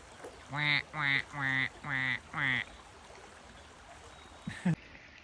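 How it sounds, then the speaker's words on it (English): Five loud, evenly spaced quacks from a nearby duck over a soft background of running water, with one brief harsh call near the end. "Oh look, there's some ducks."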